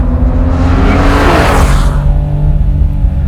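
A Porsche 2.7 RS engine pulls hard in third gear on a race track, a loud, close, sustained roar whose pitch climbs and then settles.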